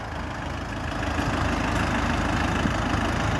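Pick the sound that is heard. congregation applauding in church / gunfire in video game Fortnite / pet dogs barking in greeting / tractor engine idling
tractor engine idling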